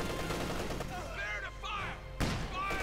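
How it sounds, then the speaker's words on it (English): MG-34 machine guns fire in Company of Heroes 2 battle gameplay, a dense crackle of distant gunfire layered with whistling effects and a sharp nearby burst, under a voice commentating. "MG-34s they're firing away"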